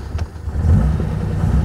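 1933 Alvis Speed 20 vintage car engine cranking and catching, a low rumbling churn close by that steadies into a loud, rough idle.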